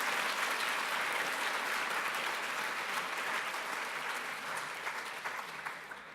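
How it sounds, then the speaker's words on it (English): An audience at a special event gives a round of applause for Matt: a full, even wash of clapping from many hands that stays strong throughout and eases only slightly toward the close. "if you would all just a short round of applause for Matt for all the tremendous work that he's done"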